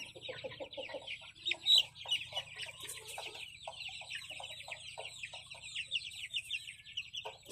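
Pullets and hens clucking nearby in a steady, busy chatter of short calls, with one louder squawk, over a low background hum and no talk.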